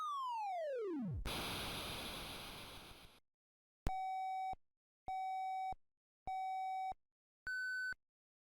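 Commodore 64 game audio from the Cascade Cassette 50 collection: a falling electronic sweep, a burst of harsh hiss, then four evenly spaced square-wave beeps, three at one pitch and the last higher, loud and alone.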